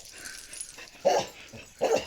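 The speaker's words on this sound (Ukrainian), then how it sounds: "Той Тузік вже гавкає, бо то йдуть кози, він тільки так на кози гавкає, що йдуть." A dog barks at passing goats, two distinct barks about a second apart, moderately close, with soft rustling outdoors between them.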